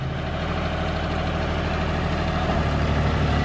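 Steady idle of a John Deere 5210 tractor engine driving a straw reaper, a loud continuous low diesel rumble with no breaks and no talk.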